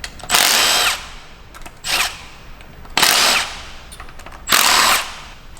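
A power tool with a T30 bit loosens the camshaft bolts on a BMW N63TU 4.4 turbo V8 in four loud, close bursts of whirring, each about half a second to a second long, separated by short pauses.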